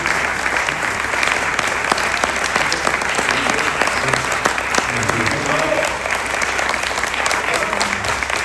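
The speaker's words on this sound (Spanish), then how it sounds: "le damos un fuerte aplauso al arquitecto Manuel, gran maestro, por favor" Audience applause at an award ceremony honoring an architect, a dense, steady clapping from a large crowd that holds at full strength for the whole stretch with no speech over it.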